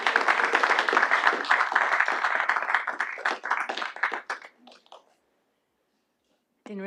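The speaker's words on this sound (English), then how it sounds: "Let's give them a round of applause." Applause at a Little Rock city Board of Directors meeting, a dense stretch of clapping that thins into scattered claps and fades out after about five seconds, followed by silence before a voice starts speaking.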